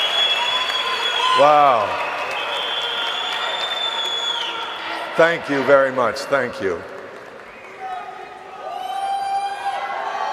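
An audience at an international training event in Rome applauds and cheers, a steady wash of clapping with whoops, while a speaker on stage talks over it and thanks the crowd.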